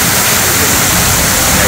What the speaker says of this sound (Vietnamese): Thác chảy đúng đẹp luôn á.